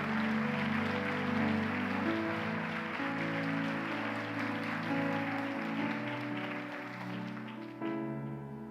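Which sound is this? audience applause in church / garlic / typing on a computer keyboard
audience applause in church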